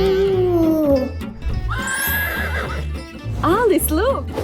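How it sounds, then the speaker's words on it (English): A horse neighs loudly and close in a cartoon-style scene, with several long whinnies and squealing calls, mixed with hoofbeats and music. "Alice, look. It's a horse."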